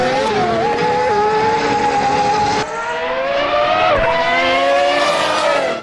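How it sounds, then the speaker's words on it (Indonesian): A toy Formula One race car gives a loud, continuous high-pitched engine whine with shifting pitch, a brief break near the middle, then revving up again, alone without talk. "Widih, yang ini mobil balap Formula"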